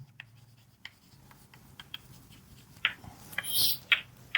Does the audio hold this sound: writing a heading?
yes